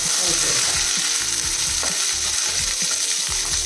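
Four chopped onions sizzle in hot oil at close range, a steady broadband crackle with soft clicking stir sounds and low knocks running throughout, no voices.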